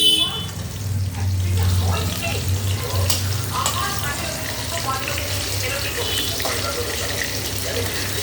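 Potatoes and pointed gourd fry in oil with a continuous hissing sizzle, close and fairly even, occasional clinks of a utensil over it.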